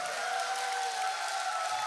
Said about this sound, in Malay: Kita berikan tepukan yang paling gemuruh untuk Mark.